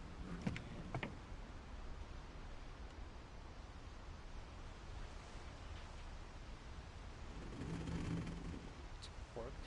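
An explosion in the PS4 game What Remains of Edith Finch: a few sharp cracks early on, then a low, soft rumbling boom swelling near the end over a quiet noisy background.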